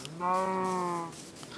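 A single cow moos in the Minecraft Feed The Beast modpack, one drawn-out, clear in-game lowing call, close and alone with no talk over it.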